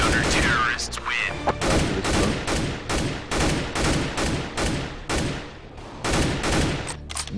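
Rapid bursts of gunfire from the video game Counter-Strike: Global Offensive, loud and close, firing in a steady repeated rhythm of sharp shots across the whole stretch.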